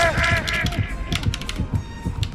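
Computer keyboard keys clatter in quick, fairly regular presses during a mobile Dead by Daylight session, close and distinct, with faint speech-like sound mixed in.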